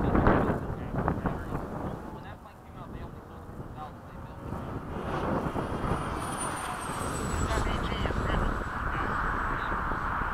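A Freewing 70mm F-35 RC electric ducted-fan jet makes a demo flight at a flying field, its whooshing whine rising and falling as it passes, under wind buffeting on the microphone and people talking nearby.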